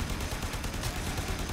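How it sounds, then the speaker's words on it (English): A gas explosion in the video game Warframe, a dense, loud burst of crackling blast noise that fills the whole moment with no talking over it. "Gas explosion."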